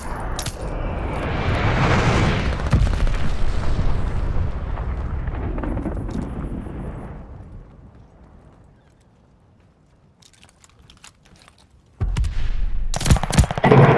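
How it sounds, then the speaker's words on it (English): Glide bomb blast and gunfire in the Call of Duty: Vanguard video game, a loud rumbling explosion with crackling shots that decays into near silence before a sudden burst of heavy gunfire returns. "Enemy's got a glide bomb incoming."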